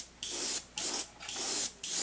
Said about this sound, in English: when I'm spraying, I don't want to go too heavy